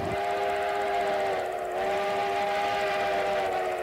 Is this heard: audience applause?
no